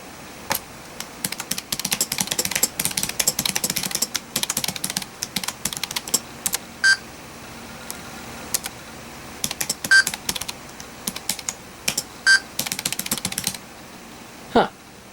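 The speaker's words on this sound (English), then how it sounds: "We can just do a basic typing test." Rapid clattering of keys on a 1996 Apple Macintosh PowerBook 1400cs laptop in bursts, close and fairly quiet, with pauses and three short electronic beeps.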